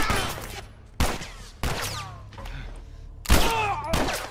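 Several heavy gunshots ring out one by one in a zombie video game, each a loud, sharp blast followed by a ringing tail, spaced about a second apart with quieter game sounds between.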